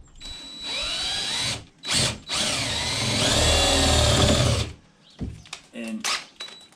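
A power drill with a bit boring into a door frame for a door knob striker plate, whirring in a few bursts: short pulses, then a longer steady run, then brief stop-start spins, close and loud.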